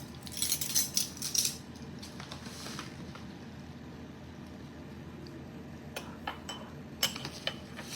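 Chia seeds scooped from a metal spoon into a container while making chia pudding: a close burst of light metallic clinks and rattling grains at the start, then a few isolated sharp taps against a quiet background.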